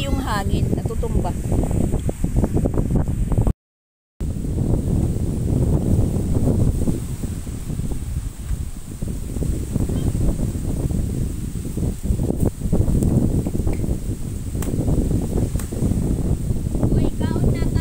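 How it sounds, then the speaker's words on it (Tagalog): Strong wind at the seashore buffets the microphone in a steady, loud roar with rustling gusts throughout, while people talk over it. "malakas kasi yung hangin"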